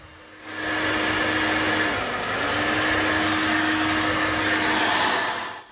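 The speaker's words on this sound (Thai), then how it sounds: "ตอนนี้ไดเป่าผมก็กลับมาสะอาดเหมือนเดิมนะครับ แล้วก็ แรงในการเป่า ก็กลับมาแรงเหมือนเดิมนะครับ" A freshly cleaned hair dryer runs at full power, a steady loud blowing roar with a constant motor whine that starts abruptly, holds for about five seconds with a brief dip midway, then cuts off.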